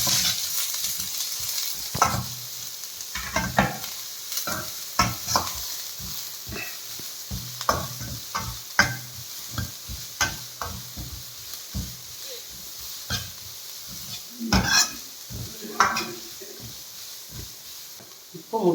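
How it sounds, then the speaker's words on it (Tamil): Onion, beans and carrot stir-fried in a pan for street-style chicken fried rice, steady sizzle broken by frequent clanking spatula scrapes and tosses, with some speech faintly under it. "இப்போது கட் பண்ணி வச்சுருக்கிற வெங்காயம், பீன்ஸு, கேரட்டு எல்லாத்தையும் சேர்த்து நல்லா வதக்கி வச்சுக்கலாம்"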